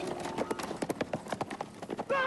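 A white horse clip-clops at a brisk pace with a rapid, steady rhythm of hoofbeats, close and fairly loud, ending with a whinny while people talk over the sound.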